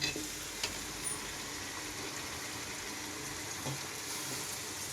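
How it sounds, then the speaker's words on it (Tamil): Chopped tomato and mint stirred into a hot frying pan for a cauliflower gravy, giving a steady, quiet sizzle with soft scraping of the spoon throughout. "அதையும் எடுத்து நம்ம மிக்ஸ் பண்ணிக்கலாம்."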